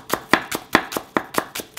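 A knife chops green onion on a cutting board in crisp, evenly spaced strokes, about nine sharp taps in under two seconds, close and clear with no talk.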